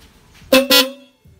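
Two loud, short blasts from an aftermarket car horn fitted to a Mitsubishi Adventure, sounded back to back with a brief gap, standing out sharply over a quiet background.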